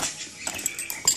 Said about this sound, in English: Put the coals in here.